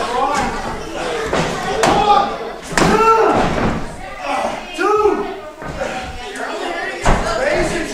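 At a wrestling event, a ring shakes under repeated heavy body thuds and slams as a Patriot missile move lands, the impacts mixed under excited commentary and crowd noise.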